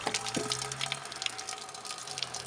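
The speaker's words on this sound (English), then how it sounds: "crank open the valve and get the wort running in there" Homebrew wort pouring from a cranked-open valve during sparging, a steady close splashing and running flow like a tap filling a vessel, continuous for the whole stretch with no talk.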